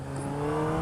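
A 2008 Honda Hornet CB600FA motorcycle engine pulls up in revs from about 4,000 RPM, a brief, smooth rising whine heard close and steady with no talk.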